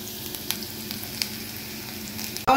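Onions sizzle and fry in a pot, a steady close crackling hiss with small pops throughout, ending in a brief louder clatter.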